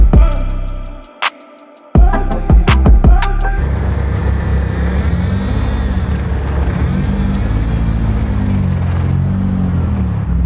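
A Ford Sierra XR4i with a turbocharged Honda S2000 engine swap on a dyno, opening with loud rapid pops and bangs, then a sustained roaring wide-open run with a rising whine.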